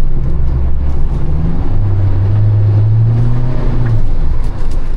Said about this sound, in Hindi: मैंने पूरा एक्सीलरेटर जो है वो दिया हुआ है।